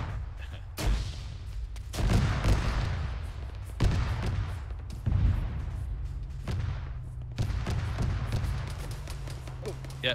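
Autocannon fire in the Arma 3 military game, heavy booming bursts repeating every couple of seconds at middling distance, each followed by a rumbling tail, with occasional voices underneath.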